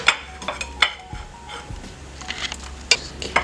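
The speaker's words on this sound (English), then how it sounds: "We just want it to keep on melting, keep on stirring, and make sure to incorporate that cheese nice and well in there" Blocks of cheese are stirred into a melting chipotle mac and cheese mixture, giving a soft, continuous scraping with occasional sharper clinks of a utensil against the pot, all fairly close.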